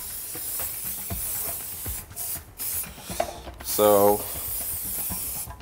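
Cooking oil is sprayed onto a pan in a home kitchen in a few short, close hissing bursts, with someone talking around them.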